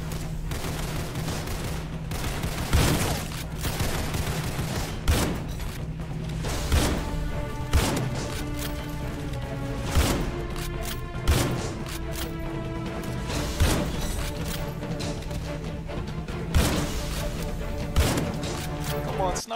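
Sniper rifle shots in Roblox Criminality ring out as sharp, evenly spaced cracks roughly every couple of seconds over a steady game background, with a voice talking at times.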